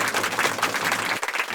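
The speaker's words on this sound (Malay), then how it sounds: "Ustaz nak dengar tepukan yang gemuruh." Schoolchildren in a classroom clap their hands together in a loud, rapid, uneven burst that stops abruptly near the end, with no one speaking.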